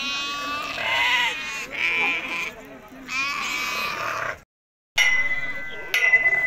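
Sheep bleat repeatedly and loudly close by at a busy livestock market in Azrou, several wavering calls overlapping with people talking nearby.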